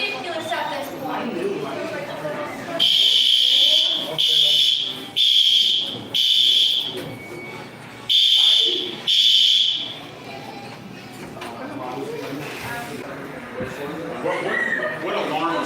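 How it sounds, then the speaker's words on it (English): A fire alarm sounds in a series of loud, piercing electronic blasts in a regular on-off pattern, with people talking and crowd chatter before and after the bursts. "What alarm was pulled?"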